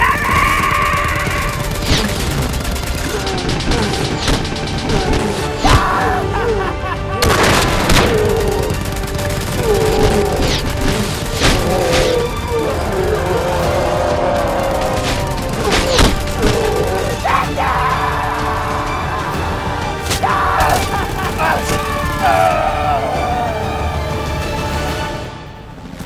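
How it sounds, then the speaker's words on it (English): Military-scene gunfire laid down as covering fire, with bursts and sharp cracks running through a dense, loud battle soundscape alongside shouts and crashes for the whole span. "Covering fire."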